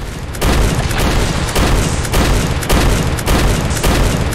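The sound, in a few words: gold shotgun blasting a dragon in video game Vomitoreum 2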